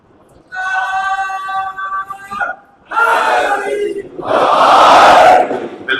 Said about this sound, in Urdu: باہر کے مومنین بھی صلوات یا نعرے کی کوئی آواز آنی چاہیے.